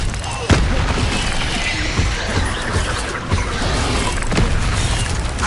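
Incendio fire spell blast in Hogwarts Legacy, a dense rumbling burst of fiery boom and crackle that fills the whole stretch, loud and close with a sharp hit near the start.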